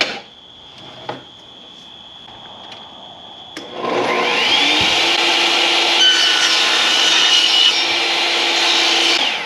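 A saw rips through a full sheet of plywood while a router table cabinet is being built, starting after a few quiet knocks and then running as a loud, steady, continuous cutting roar that holds to the end.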